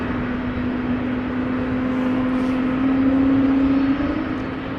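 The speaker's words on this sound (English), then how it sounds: "You're also picking up the sounds of the Turkish A330, which is overpowering." A Turkish Airlines Airbus A330 at Amsterdam Schiphol Airport gives off loud, steady jet engine noise with a sustained low tonal whine that swells slightly before easing.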